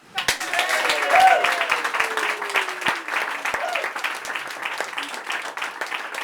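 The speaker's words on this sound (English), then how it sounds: "then why don't you applaud or something?" A comedy-club audience at a Jekyll & Hyde venue breaks into steady applause, dense clapping swelling early then holding level for several seconds, with a few whoops and voices rising over it.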